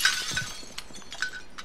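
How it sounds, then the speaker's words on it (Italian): Window glass shattering in Call of Duty: Modern Warfare, a quick sharp crash followed by a few scattered tinkling shards, fairly quiet and brief. "senti i vetri che si spacca"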